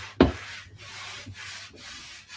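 A rag wipes dark wax over painted furniture, with one sharp rub at the start followed by steady, soft wiping strokes at close range, no voices.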